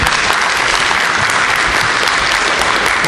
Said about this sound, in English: I ask you to hold your applause